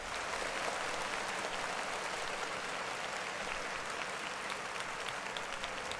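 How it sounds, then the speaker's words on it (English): Steady applause with a dense, even wash of clapping that holds at an unchanging level throughout, fairly quiet and without distinct individual claps. "Clap it up for Yak."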